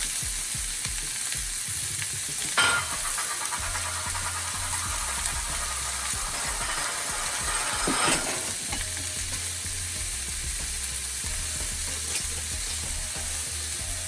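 Onions and celery frying in a hot cast iron pan, a constant bright sizzle crackling steadily close by, with two brief louder scraping bursts as the vegetables are stirred.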